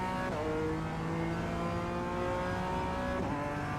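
A BMW M4 G82 GT4 race car engine laps Suzuka Grand Prix circuit in the iRacing sim: a steady, buzzing onboard drone with quick pitch drops at two gear changes. No speech.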